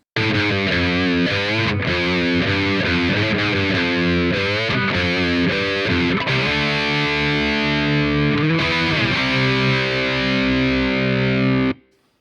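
Distorted electric guitar through a Lindell 50 amp simulator plugin plays a chordal riff with quick strums, then sustains ringing chords before stopping abruptly.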